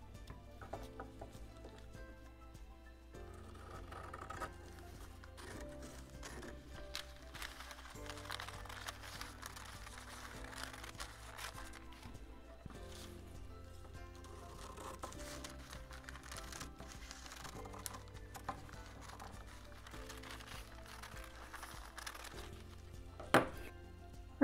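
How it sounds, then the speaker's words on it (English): Quiet, steady snipping and light tapping while paint inlay image pieces are cut apart by hand, small crisp cuts repeating unevenly over a low background hum with no talking. "I'm going to cut these out as separate pieces"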